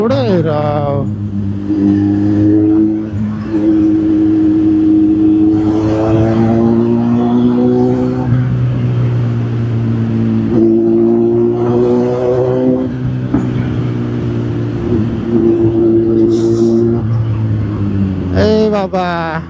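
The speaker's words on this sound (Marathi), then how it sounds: "ट्रॅफिक केवढं आहे राव" Road traffic with car engines rumbling and passing, a steady mid-loud drone running throughout under continuous talking.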